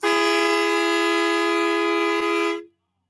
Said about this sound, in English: That's his train horn. That's pretty loud.